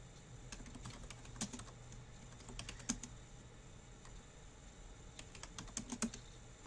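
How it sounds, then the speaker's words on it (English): A name being typed on a computer keyboard: quiet, steady key clicks in uneven bursts with short pauses, over a low background hum and no talking. "So I'm going to type in Jennifer Pruitt's name."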